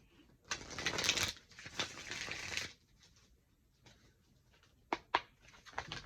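Oracle cards being shuffled by hand at close range: a few quiet bursts of papery riffling and sliding, followed by soft taps and a couple of sharp clicks.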